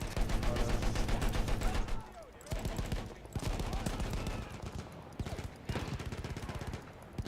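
Sustained rapid gunfire from a World War I battle in the video game Battlefield 1, dense bursts of rifle and machine-gun shots that pause briefly and resume, loud and continuous.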